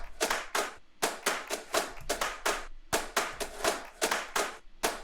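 Snare loop in a drum mix, with sharp, bright hits in a quick repeating groove, some doubled and some single, dry and close with no voices.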